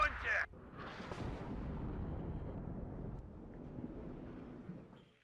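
A heavy artillery blast in the video game WARNO opens with a sharp report, followed by a long low rumbling tail that slowly fades, a second faint thump near the end.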